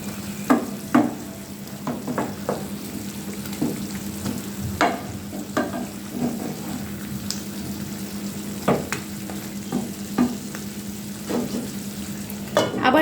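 Vegetables for a boal fish curry with tomato fry in a pan, a steady low sizzle broken by repeated scraping and clinks as the mixture is stirred, close and unhurried.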